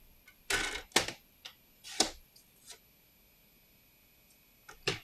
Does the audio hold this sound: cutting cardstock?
yes